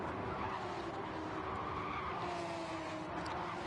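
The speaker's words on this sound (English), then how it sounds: "I heard squealing tyres. No, it's just ordinary squealing tyres." Tyres squeal as cars race in a racing video game, a steady whining screech layered over continuous engine roar, moderately loud and sustained for a few seconds.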